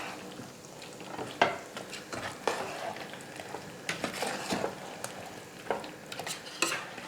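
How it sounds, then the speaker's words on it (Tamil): Sambar rice mixture with masala paste being stirred in a pot, giving a run of scraping, wet clinks and short knocks at an uneven rhythm, fairly close and moderately quiet with no voices. "எல்லாத்தையும் சேர்த்து நல்லா கலந்து கொடுத்துக்கிறேன்."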